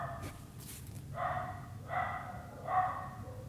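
A dog barks three times in a steady rhythm, each bark close and fairly loud over a low background hum, with no talking.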